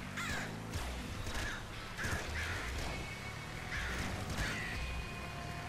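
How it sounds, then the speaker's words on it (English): Crow enemies in the Nuclear Throne video game caw again and again, with harsh calls coming in uneven bursts every second or so over a muffled game background. "Crow people. They fly around and try to shoot your jibs off."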